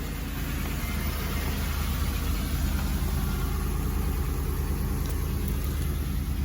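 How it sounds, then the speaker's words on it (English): A Nissan engine sits in high idle after a cold start in snowy, below-freezing weather, giving a steady, loud low rumble that holds evenly throughout with no voices. "It's in high idle mode."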